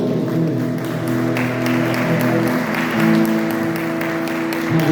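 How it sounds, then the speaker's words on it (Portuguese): A church congregation claps during a Sunday communion service, the applause steady and moderate over sustained musical tones. "Levante as mãos para o céu e aplaude bem próximo"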